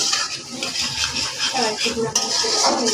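Onion frying in a pan as whole dried chillies go in, with clattering utensil stirring and scraping against the pan, a light sizzle underneath, and a sharp clink near the end.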